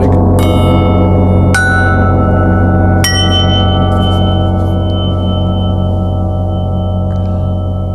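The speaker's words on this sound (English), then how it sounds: "Throw in some bells." Bells layered into a music mix: three bright struck tones ring out in turn over a sustained, loud, dense bed of sound, each one decaying slowly into the wall of music.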